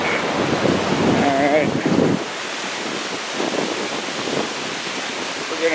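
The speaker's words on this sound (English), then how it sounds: "Water's moving by at a pretty good clip." Fast-moving water rushes past during a suburban walk, a broad wash of roaring flow mixed with wind buffeting the microphone; a voice briefly speaks over it.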